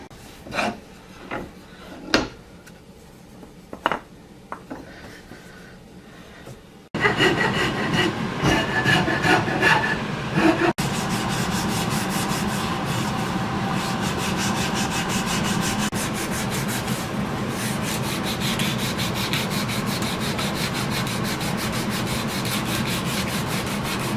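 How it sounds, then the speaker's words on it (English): Hand file working a taper on a forged iron adze, a few scattered scrapes and taps at first, then steady, loud rasping strokes continuing close by. "File that little bit of taper on there"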